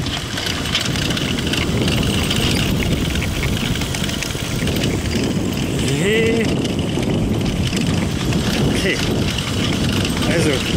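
A homemade budget e-bike built from salvaged battery cells rides on turbo mode, its motor hum and tyre noise buried under steady wind buffeting on the microphone while a rider talks.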